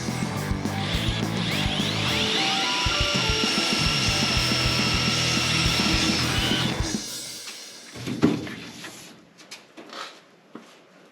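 A drill bores holes in a 4130 chromoly roll cage main hoop, whining loudly and steadily for about seven seconds before stopping, followed by a few scattered clunks and handling noises.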